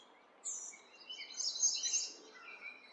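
Light animal chirps from the video game Super Auto Pets rise briefly in a quiet, high twittering burst that lasts about two seconds.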